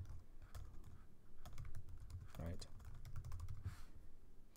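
Quick bursts of typing on a computer keyboard while writing Java code, clustered keystrokes clicking close by under a quiet speaking voice.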